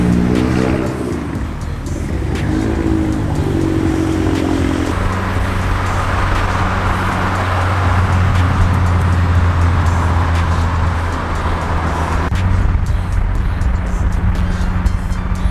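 A Honda car driving on a road, loud steady engine drone and road rumble throughout, with gear changes early on and a brief shift in tone near the end, no speech over it.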